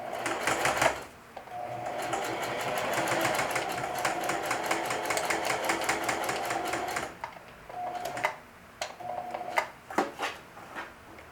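A sewing machine stitching a back pocket onto jeans runs in a steady, rapid, close chatter for several seconds, then stops and starts in shorter bursts with clicks in between.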